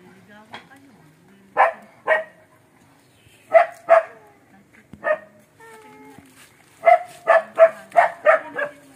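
Several dogs bark in short, sharp bursts, with some yips and whimpers, close by in a domestic yard, the barks clustering irregularly and growing busier toward the end.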